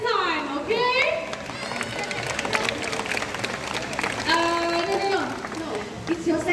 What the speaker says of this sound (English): Barry supporters, you have to cheer even louder this time